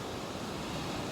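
Ocean surf on a Caribbean beach, a steady broadband wash of breaking waves and rushing water with some wind noise, loud and continuous throughout with no voices.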